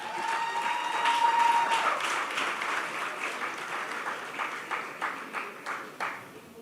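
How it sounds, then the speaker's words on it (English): Graduation audience at a secondary school ceremony applauding a valedictory trophy winner, a sustained wash of clapping that thins into scattered, separate claps toward the end. "Let's give him a round of applause."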